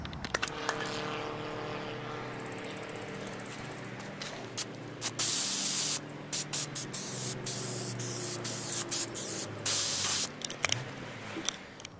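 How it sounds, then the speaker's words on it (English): Bursts of adhesion promoter spraying from an aerosol can in short and longer blasts, close up, onto car door parts, with a low hum running underneath and no talking. "I'm just going to scuff them up and spray them with the adhesion promoter."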